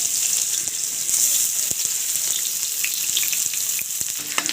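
Noodles fry in hot oil in a pan for an egg omelette noodle snack, giving a steady close sizzle with a few light clicks of stirring throughout.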